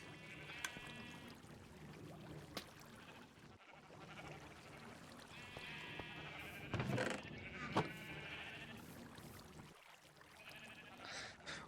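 Sheep bleating repeatedly over a low steady background, several wavering calls spaced a few seconds apart, moderately close.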